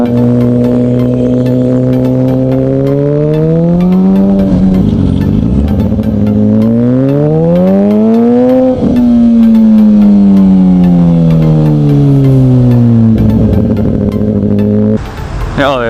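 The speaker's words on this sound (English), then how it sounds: "There's Corvette coming by." A Chevrolet Corvette passes close by with loud, rising and falling engine tone that swells as it approaches and fades away, heard over steady road noise from a riding motorcycle.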